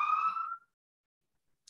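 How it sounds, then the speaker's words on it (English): A siren passing outside, heard as a strong wailing tone for about half a second before it cuts off, followed by near silence and a brief faint high sound at the end. "sorry, there's a siren."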